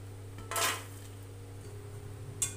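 Roasted dry fruits are moved from a wok to a plate, with two sharp metallic scrapes and clatters, one longer and one brief, over quiet room hum.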